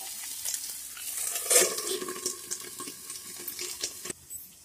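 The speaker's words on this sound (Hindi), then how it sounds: "इस तरह से हल्के हल्के लो फ्लेम में इसको फ्राई कर लेंगे और इसको ढक के फ्राई कर लेंगे" Pointed gourd and potatoes frying gently over a low flame, with a steady soft sizzle and occasional stirring scrapes close by, no voices, the sound dropping away near the end.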